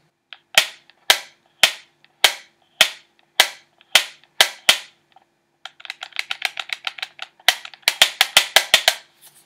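Sharp plastic clicks from the L2 and R2 trigger buttons of a Sony DualShock 4 controller, first a slow series of single snaps, then a faster, denser run of rapid clicking, close up.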